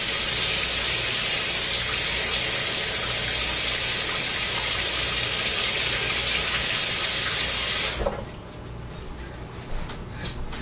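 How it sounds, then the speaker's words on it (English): Hot water runs steadily and loudly from a tap as a continuous broadband gush, then cuts off abruptly near the end, leaving only faint room noise and small clicks. "Let me run some little bit of hot water in it, see if it helps."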